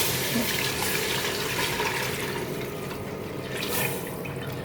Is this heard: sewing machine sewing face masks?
no